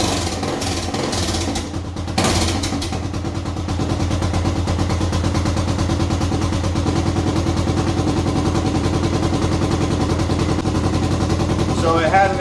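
A 2011 Honda Recon 250 ATV engine with an exhaust leak runs at a steady idle, close and loud, with a continuous rough, chugging rumble and a brief disturbance near the start.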